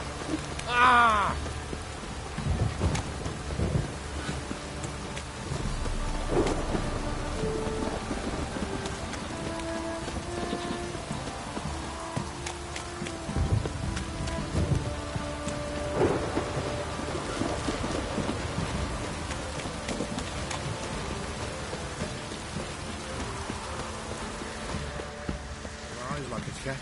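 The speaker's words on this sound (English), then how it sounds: "This downpour's a bastard" Heavy rain pours steadily in a video game storm, with occasional thunder rumbles under game music and character dialogue throughout.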